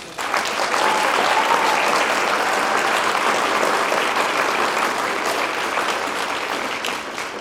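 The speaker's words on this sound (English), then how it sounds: "Can you give them another round of applause?" Sustained applause from a concert audience after a spring orchestra performance, a thick even wash of many hands clapping throughout without a pause.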